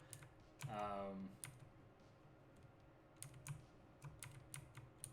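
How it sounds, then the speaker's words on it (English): Keys on a mechanical keyboard click faintly in a quiet room, a few scattered presses under a soft hum, with a brief tonal sound near the start. "All you may be hearing is me pushing my mechanical keyboard"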